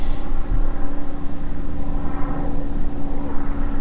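A propeller airplane drones steadily overhead in the desert near Quartzsite, Arizona, a loud continuous engine rumble and hum that holds for several seconds without a break.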